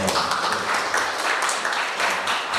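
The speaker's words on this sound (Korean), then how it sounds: "박수 한번 주시죠" Audience applause fills a lecture hall at a Korean cultural college talk on tea and the philosophy of Dasan, a steady, dense wash of clapping that runs loud and unbroken throughout.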